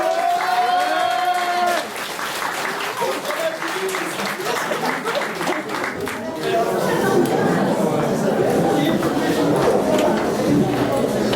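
Applause from an audience during a steam tour event in Marseille, a continuous patter of many hands that swells toward the end, mixed with crowd murmur and voices talking over it.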